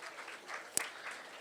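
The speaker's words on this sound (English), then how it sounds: "So a big round of applause for Netra," Audience applause at a career seminar, a brief patter of many hands clapping at moderate volume with one sharp louder clap, no talking.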